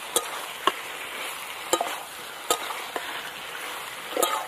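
Chicken curry with new potatoes sautés in a pan, a low steady sizzle punctuated by sharp, irregular clacks of the spatula against the pan, close and without talk.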